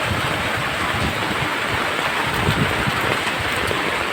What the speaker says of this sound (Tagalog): Kalakasan ng ulan.